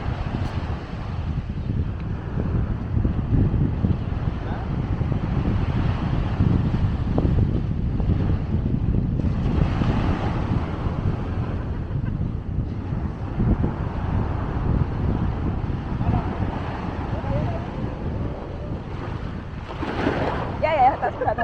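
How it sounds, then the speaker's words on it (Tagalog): Ocean waves surging at a beach in Nassau, Bahamas, a loud rolling wash of water with gusty wind noise across the microphone, swelling and receding repeatedly. "Malakas yung tubig."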